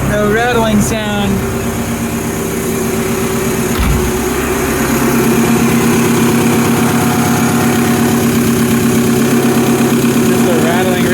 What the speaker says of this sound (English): Just a rattling radiator.